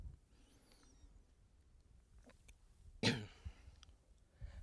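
A single sharp cough from a speaker during a conference talk stands out against near silence, followed by a few faint small clicks and rustles.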